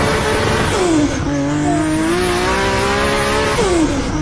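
Revving car engine in a toy car setting: loud, continuous, high-pitched engine whine that rises and falls in pitch with a tire-squeal edge, close and with no talking.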